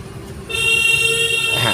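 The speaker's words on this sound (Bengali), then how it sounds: "হ্যাঁ, এরকম হর্ন দিতেই হবে মিনিমাম 2 সেকেন্ড।" A car horn blares in one loud, steady, unbroken tone for more than a second during a driving lesson on a road, with low engine and traffic rumble underneath.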